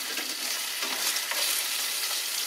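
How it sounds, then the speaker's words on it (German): Jerusalem artichoke slices frying with egg in a pan, a steady close sizzle with soft stirring scrapes throughout and no voices. "So, dass alle Topinambur-Scheiben ein bisschen Eier bekommen. Noch ein bisschen umrühren."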